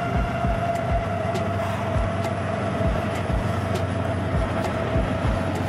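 A train rolls past close by with a steady rumbling roar and a regular clickety-clack of wheels over rail joints throughout, no voices.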